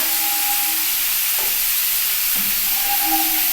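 Bitter gourd and potato curry frying in a pan, a steady loud sizzling hiss that runs without a break, with faint tonal hums coming and going underneath.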